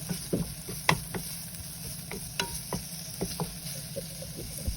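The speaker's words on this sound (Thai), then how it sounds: "แล้วก็ผัดให้เขาสุกเลยนะ" Minced pork stir-fried in a home kitchen pan for a Japanese-style meal, giving a steady low sizzle under scattered scraping and tapping of a utensil against the pan, close and fairly quiet.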